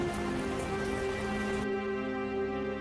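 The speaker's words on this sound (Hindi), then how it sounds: "बारिश भी तेज थी" Heavy rain pours down in a cartoon story, a thick hiss of falling drops over sustained musical tones, with the rain cutting off abruptly partway through while the tones continue.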